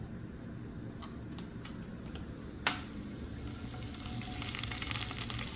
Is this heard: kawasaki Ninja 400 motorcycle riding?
no